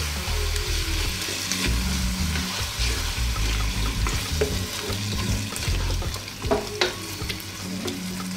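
Chicken pochero being stirred in a pot after fish sauce and tomato sauce go in, with a steady close sizzle and frying hiss throughout and occasional scraping clinks from the spoon, no voices.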